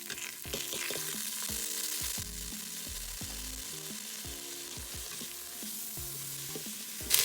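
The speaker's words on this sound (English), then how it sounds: "So saute the whole spices for a few seconds." Whole cloves and cinnamon sauté in an Instant Pot, a soft steady sizzle joined by a faint intermittent mechanical hum and a brief clatter at the end.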